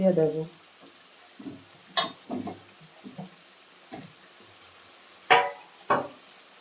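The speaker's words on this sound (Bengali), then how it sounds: "আমি ভালো করে নেড়ে দিচ্ছি" Potatoes are stirred in a frying pan for a stingray (shankar fish) dish, giving short, irregular scraping bursts separated by quiet gaps, with a faint sizzle underneath.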